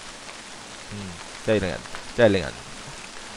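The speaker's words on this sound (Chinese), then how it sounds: "外面下雨啊" Steady rain falling outdoors in the horror RPG game 霧雨飄散之森, a soft, continuous hiss that runs beneath someone speaking.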